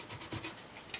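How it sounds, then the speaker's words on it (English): A small brush scrubbing flux cleaner across a circuit board during an oscilloscope repair, heard as a brief, faint, soft scratching close by. "Just give it a little bit of a clean with a flux cleaner and a brush"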